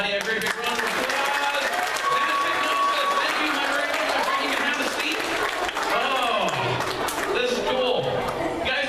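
An audience at a middle school show bursts into steady, sustained applause, mixed with scattered cheers and chatter from the crowd throughout.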